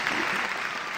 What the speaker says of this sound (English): I had to actually use up the applause